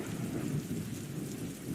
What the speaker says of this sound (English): The storm begins. You start to hear thunder, and the rain begins to fall